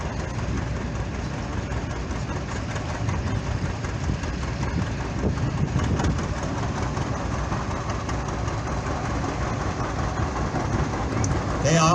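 A styled John Deere Model A two-cylinder tractor from the 1939–1953 era runs in a parade at a threshing show, its loud, steady engine rumble continuing throughout.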